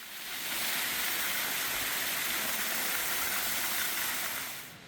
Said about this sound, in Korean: 열대식물원답게 실내 폭포도 빠질 수 없죠.